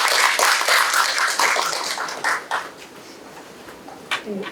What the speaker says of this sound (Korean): 힘찬 박수 부탁드리겠습니다